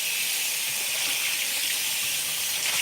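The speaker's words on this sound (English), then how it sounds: "We'll give it a rinse off." Water runs steadily over a vintage 1970s-era cast iron pan with swirl marks during a rinse, a constant broad hiss of tap flow lasting throughout without pause, close and fairly loud with no voices.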